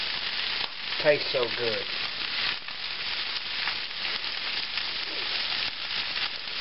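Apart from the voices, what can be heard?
cabbage and Spam frying in bacon grease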